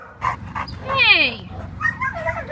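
A dog at an animal shelter gives a few short yelps and a rising, whining cry, close and fairly loud, mixed with people talking nearby.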